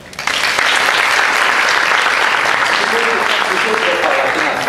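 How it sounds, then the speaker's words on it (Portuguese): A room full of people applauds at a health ministry meeting, a dense, loud, sustained clapping that starts abruptly and holds steady throughout. "Uma salva de palmas"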